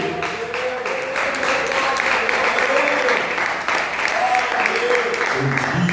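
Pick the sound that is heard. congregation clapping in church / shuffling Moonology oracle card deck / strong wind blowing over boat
congregation clapping in church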